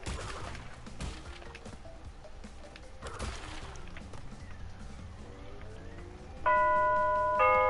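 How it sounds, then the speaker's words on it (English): A household doorbell chimes at the end of a stretch of gameplay background sound, a bright sustained ring entering loudly after several seconds and repeating once more close by. "And that is my doorbell."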